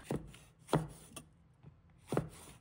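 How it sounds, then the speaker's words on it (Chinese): A knife chops through green and red peppers on a cutting board, trimming tops and tails: a few sparse, soft thuds spaced apart, quiet and close. "准备2条青红椒，把它切掉顶部和尾部"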